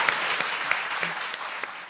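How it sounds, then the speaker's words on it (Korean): Clapping from a studio audience on a Korean current-affairs talk show, a short burst of many hands applauding fairly close, with a voice briefly audible beneath. "박수 부탁드립니다."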